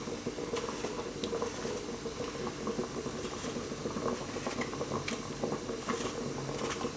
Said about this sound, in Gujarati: પાણી એકદમ ઉકળી ગયું લાગે છે।